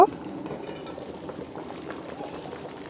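Water bubbles at a rolling boil in a covered pot of white pilaf, a close, steady simmering hiss with soft popping throughout the short stretch.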